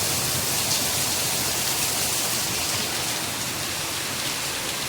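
Torrential Mumbai rain streaming off roof sheets in thick runnels, a steady, loud, broadband wash of pouring water that holds even throughout with no voices.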